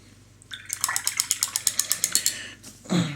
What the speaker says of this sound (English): Clean out the brush properly, and then I will start to paint.